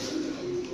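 A competition songbird, a junior championship winner, gives a steady sustained cooing call close by. The tone is continuous and clear, with no talk over it.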